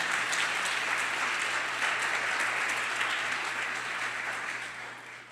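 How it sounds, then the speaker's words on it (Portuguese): Church congregation applauding during a sermon, loud sustained clapping from a large crowd over a steady low hum, fading slightly near the end. "Dá um aplauso forte ao Senhor."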